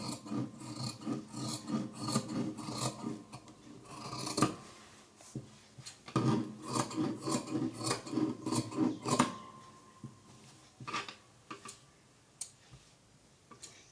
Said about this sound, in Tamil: இப்போ நம்ம ஸ்லீவோட அளவை ஃபுல்லாக கட் பண்ணி எடுத்துடலாம்